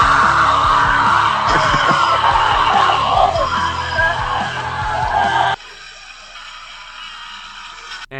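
Screaming and yelling in a mobile game ad, loud and dense over a busy mix of crashes and thumps, cutting abruptly to a quieter tail.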